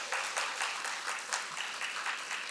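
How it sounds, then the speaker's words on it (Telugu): An audience at a birthday celebration gathering claps steadily in a dense, continuous burst of applause, fairly even in loudness with slight surges, heard without talk over it. "ఒక్కసారి గట్టిగా చప్పట్లు కొట్టుకుందాం."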